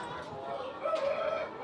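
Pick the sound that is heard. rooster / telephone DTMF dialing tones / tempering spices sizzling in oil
rooster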